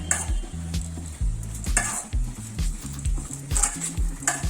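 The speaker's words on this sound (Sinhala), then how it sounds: "දැන් මේක හොඳට කලවම් කරලා තියන්න." A spoon stirs a poha mixture of flattened rice around a pan in repeated scraping strokes over a soft sizzle, with clinks against the metal and no talking.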